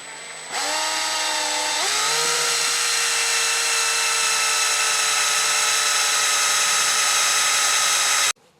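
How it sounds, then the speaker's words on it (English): A power drill bores out a ball joint rivet, its motor spinning up in two steps into a loud, steady high-pitched whine that holds for several seconds before cutting off abruptly. "So let me drill that out real quick. And start drilling her."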